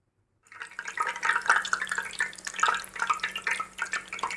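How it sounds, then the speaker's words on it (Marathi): Stuffed bhaji frying in hot oil, a steady crackling sizzle with dense bubbling that starts abruptly after a short silence and continues at an even, moderately loud level. "आता याच्यात बुडवून आपण तळायला घेणार आहोत लगेचच."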